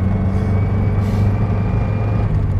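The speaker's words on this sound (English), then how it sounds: "You do tend to have to double the clutch to be able to match the engine speed to the gearbox speed." A 1948 Triumph Roadster's engine hums in a loud, steady low drone from inside the car during a double-clutch gear change, with a faint brief rise in pitch partway through.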